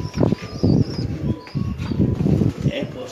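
Pigeons coo on a rooftop loft in Lahore, a few low rolling coos in short pulses, close and fairly loud, with a voice speaking between them and faint chirps above.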